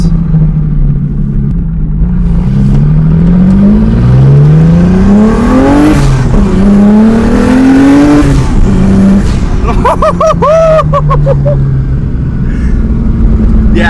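A turbocharged BMW E30 weighing about 2,300 pounds and running 10 PSI of boost pulls hard through rising, repeated engine sweeps with gear changes, loud and close, followed by sharp crackling pops near the end.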